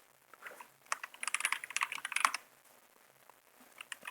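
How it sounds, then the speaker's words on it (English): Keyboard typing in the Word Wars typing video game, a quick flurry of crisp key clicks in a close burst, thinning out to a few scattered taps afterward. "If you type that word, they explode."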